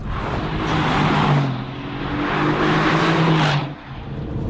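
A 2016 Mercedes AMG GTS, a powerful rear-wheel-drive car, accelerating on a cold, wet track, its engine rising in pitch through two strong pulls before easing off, loud and alone.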